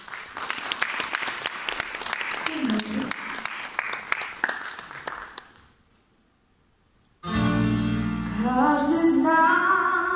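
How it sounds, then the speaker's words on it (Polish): Audience applause for a young singer before her performance, several seconds of dense steady clapping that fades out, followed by a short pause and then a voice speaking. "Brawa."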